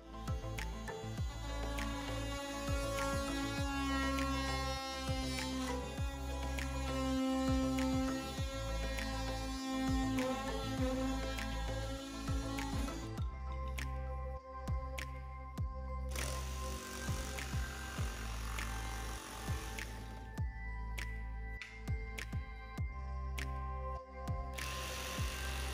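A jigsaw cuts through a faux brick panel, a close, buzzing reciprocating saw drone that runs steadily, briefly drops off, then revs back up, loud and alone.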